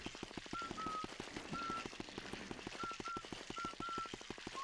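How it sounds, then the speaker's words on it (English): Luigi whistling a slow, faint, high tune in the video game Luigi's Mansion, short thin notes repeating over a steady, rapid ticking game rhythm. "Luigi whistles slower when he's low on health"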